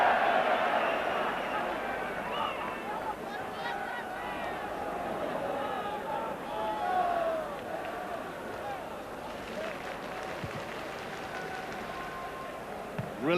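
A large football crowd of about 40,000 fills Ibrox stadium with a steady roar and scattered shouts, and a commentator's voice talks over it throughout.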